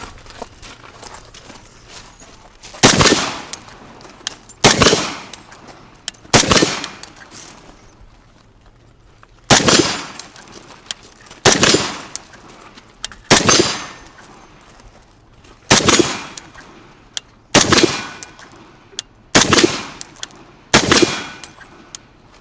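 A Knight's Armament rifle fires about a dozen single shots at a steel plate target outdoors. The sharp cracks come at uneven intervals, each followed by a brief ring, with quiet gaps between.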